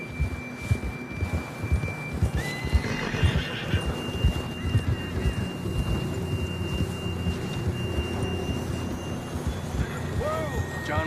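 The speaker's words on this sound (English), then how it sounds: "John was riding that horse when we left Blackwater." Horse neighing and hooves clip-clopping in the video game Red Dead Redemption 2, rhythmic hoofbeats near the start and a couple of whinnies, with voices talking over a steady background hum.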